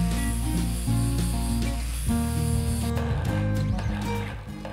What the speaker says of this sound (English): Using an angle grinder, I sharpen the threaded rod and cut this piece that I will use for the lathe's tailstock.